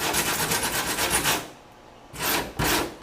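Welding on car body metal during a moonroof installation: harsh broadband crackling bursts, close and loud, a long spell, a pause, then two shorter bursts.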